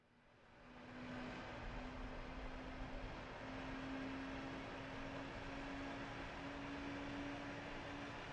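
An FW190-A8's inertial starter winds up in the DCS flight simulator, a steady whining hum with broad mechanical noise that rises in the first second and then holds constant, fairly faint and uninterrupted.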